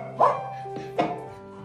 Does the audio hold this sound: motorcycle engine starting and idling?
no